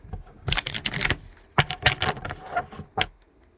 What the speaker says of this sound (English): I'm going to give it 3 good shuffles.